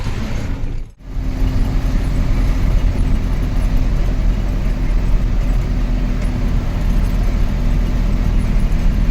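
A convoy of 14-foot and 20-foot trucks speeds along a road, producing a loud, unbroken roar of engine and tyre noise that dips briefly near the start and then holds steady.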